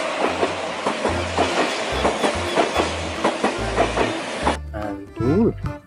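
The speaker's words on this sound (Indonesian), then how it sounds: "ada kereta api cepat" A fast train rushes past up close, its wheels beating out a steady clickety-clack over the rails before the roar cuts off and a voice briefly speaks.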